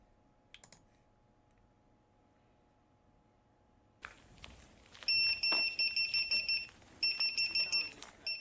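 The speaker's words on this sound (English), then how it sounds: "we had a beacon buzzer to make it easier to hopefully find the payload once it was down on the ground" Beacon buzzer from a high altitude balloon payload, sounding as loud, sharp repeated electronic beeps in rapid pulsed bursts that start partway through, after a quiet stretch, over background clatter.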